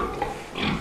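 Pigs grunting and snuffling close by, a brief burst of low oinks over steady farmyard background.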